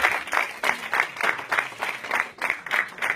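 A worship hall full of people at a Danish prayer vigil claps and cheers in rhythmic bursts, a steady pulsing wave of hand claps with voices mixed in.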